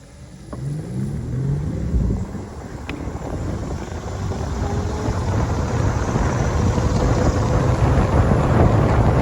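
A Huck Rebel 2000 or Onyx RCR radio-controlled boat runs across the water with a steady motor rumble and faint whine under heavy wind buffeting, growing gradually louder.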